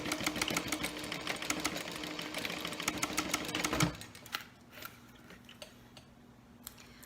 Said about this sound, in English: when I'm sewing over these nylon zipper teeth